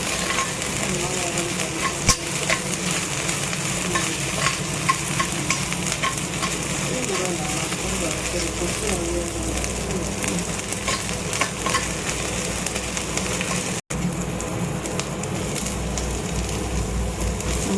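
Garlic-ginger paste fries in a pan with chopped green chillies, giving a steady loud sizzle and crackle that runs unbroken, with faint stirring scrapes underneath.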